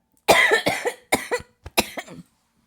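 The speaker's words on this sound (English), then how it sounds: "If I could stop coughing for like 3 seconds, that'd be so cool." A fit of harsh, close coughing, about five or six coughs in quick bursts, then silence.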